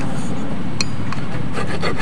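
Scraping and rasping as a handmade fishing hook is smoothed, a close steady rubbing texture with a few brief scratchy strokes near the end.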